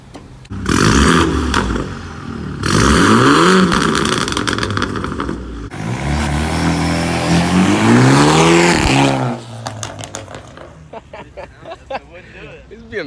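A BMW car engine revs hard with a raw exhaust note that has a leak, loud and close, rising and falling in long pulls before settling into a rough idle with clatter.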